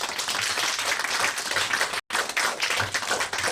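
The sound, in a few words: audience applause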